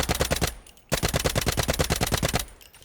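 Rapid automatic gunfire from a rifle fitted with a rangefinder optic in the shooter game Delta Force, two loud sustained bursts of evenly spaced shots separated by a brief pause.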